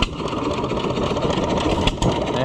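Several antique stationary engines, including Stover, Jagger and Worthington models, run together on a trailer at a county fair, giving a steady, dense mechanical chugging close by, with no talk.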